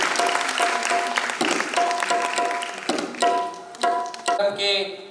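Audience applause at the opening session of the Bihar Gaurav Mahotsav festival in Patna, a sustained burst of clapping from a crowd with a steady, dense rattle across the whole span, under voices amid the hall noise.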